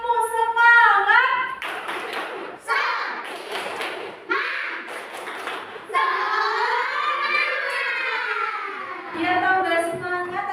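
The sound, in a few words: class doing a rhythmic clapping chant (tepuk semangat)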